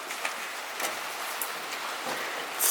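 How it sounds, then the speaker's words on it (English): Steady rain hissing down with scattered drops tapping on a surface, continuous and fairly close, with no voices. "It's raining outside too."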